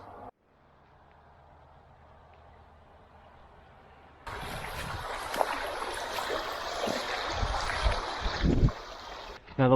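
Creek water flows past old bridge remnants in a snowy forest, a soft trickle that swells into a louder, fuller rush partway through, with footsteps or splashing near the end.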